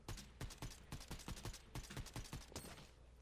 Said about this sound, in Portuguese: Tá rolando tiro pra cá, hein?